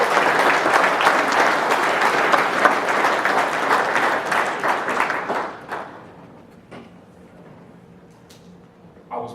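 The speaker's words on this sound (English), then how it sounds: "Let's give them a round of applause" Audience applause at a conference opening session on the future of work, loud and sustained for about six seconds before tapering to quiet room sounds.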